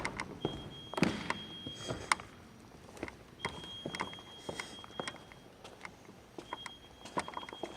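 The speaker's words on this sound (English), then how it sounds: "That beeping sound you're hearing is the fire alarm." A fire alarm beeps in steady, high-pitched stretches that come and go, with footsteps and soft knocks moving through a quiet room in an abandoned theatre with water damage.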